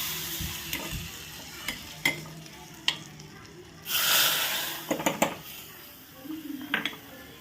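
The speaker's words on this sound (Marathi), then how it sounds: "अशा प्रकारे फोडणी दिलेली आहे।" Hot ghee tempering sizzling as red chili powder goes in for mango kadhi, a sudden burst of hissing sizzle amid clinks of a spoon against the pan, close and fairly quiet.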